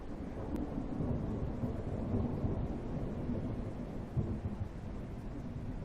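A dry lightning storm in Beasts of Bermuda brings prolonged rolling thunder, a deep, sustained rumble that swells slightly now and then and continues unbroken, with no talking.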